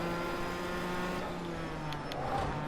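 Race car engines in a racing video game, a steady droning hum with sustained tonal whine, continuous and moderately loud with no talking.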